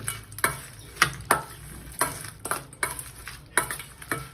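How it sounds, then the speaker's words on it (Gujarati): Chaat masala is mixed into a snack of leftover roti pieces, with a series of close, brisk scraping and tossing strokes, about ten in an irregular rhythm, over a light sizzling background and no speech. "હવે થોડો આપણે ઉપરથી ચાટ મસાલો એડ કરી દઈશું અને મિક્સ કરી દઈશું"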